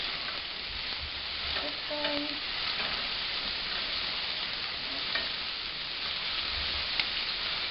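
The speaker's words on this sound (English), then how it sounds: "You want to hear that nice sizzle again." Onions sizzle in a hot pan as a steady, even frying hiss, with a faint brief voice and light stirring sounds mixed in.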